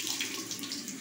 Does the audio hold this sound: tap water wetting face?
yes